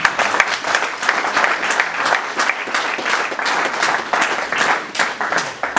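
A church congregation claps and applauds in praise at a Christian service, the dense clapping steady and loud for several seconds with no break.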